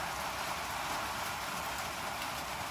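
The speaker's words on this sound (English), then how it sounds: "I don't know if you can hear the rain on the roof of the shop." Steady rain drumming on a shop roof, a dense, even hiss that stays loud and unbroken throughout with no voices.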